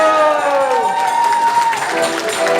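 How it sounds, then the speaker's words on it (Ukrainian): Wedding guests clap and cheer for the mother-in-law at a reception table, a dense crowd applause filling the room with voices mixed in throughout. "Аплодуємо тещі, аплодуємо."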